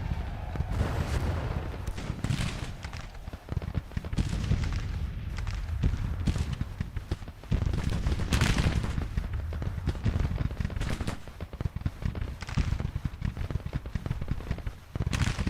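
Dense, continuous volleys of massed musketry roar through a Civil War battle in Grand Tactician, sharp cracks layered into a constant rumbling crackle with bursts of heavier firing, no clear gaps between shots.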